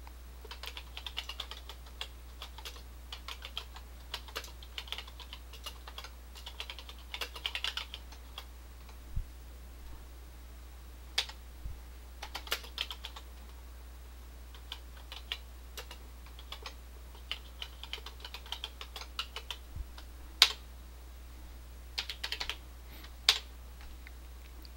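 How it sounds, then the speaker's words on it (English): Keys clacking on a TRS-80 CoCo 2 keyboard as a short program is entered, with quiet irregular bursts of taps and some sharper single strokes over a steady low hum. "I will type in a quick program just to show that I can save to the disk image."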